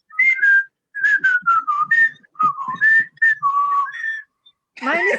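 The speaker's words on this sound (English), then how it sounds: "You can whistle." Someone whistles a wavering tune close up, in short bursts and phrases separated by brief pauses, ending with a short vocal sound.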